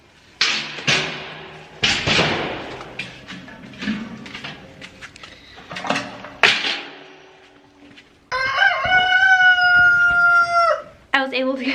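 Backyard homestead chickens cluck and squawk in a winter coop during chores, with sharp bursts of scratching and clatter, then a rooster crows long and loud near the end.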